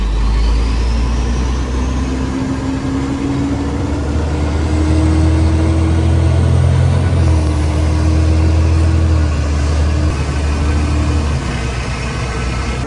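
An International Mega Cab 4x4 truck on military beadlock tires drives along, its medium engine droning steadily and rising in pitch as it accelerates, then briefly dropping before climbing again, loud and continuous with steady road rumble and no talk.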